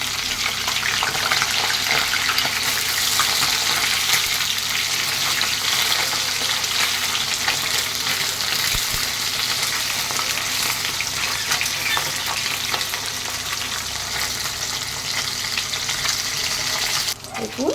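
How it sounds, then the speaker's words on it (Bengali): Bhangar fish fry in a pan of hot oil with a dense, loud, continuous sizzle and crackle heard up close, steady throughout with a single sharp knock near the middle. "মাছগুলো একটু ভেজে নিচ্ছি"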